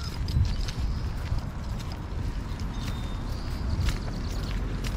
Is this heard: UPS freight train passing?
no